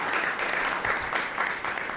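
An audience applauds steadily for Pierre Frendi, a dense, even clapping from a roomful of people, loud and continuous with small swells.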